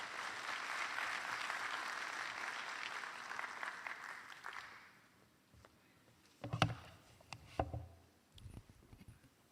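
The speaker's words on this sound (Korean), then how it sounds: "박수로 환영하겠습니다" Audience applause at a memorial forum in a Korean church setting, welcoming a pastor to the lecture; steady clapping fills the first half then fades, followed by scattered thumps and handling noises.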